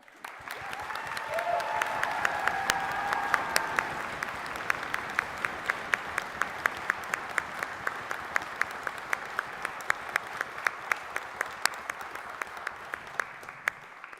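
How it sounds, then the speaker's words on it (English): Graduates at a college graduation ceremony give a long, sustained round of applause, dense clapping from a large crowd in a hall, building quickly and holding steady with sharp individual claps standing out throughout. "Give yourself a huge round of applause."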